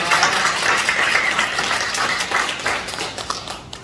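A church congregation at a Christmas service applauds, dense steady clapping from many hands filling the room, loud and continuous with no talking.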